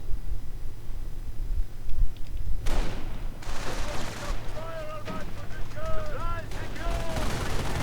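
Bursts of MG42 machine gun fire rattle through a World War II strategy game battle, rapid repeated shots alongside distant explosions and ricocheting whines over a constant rumble, with some faint in-game chatter.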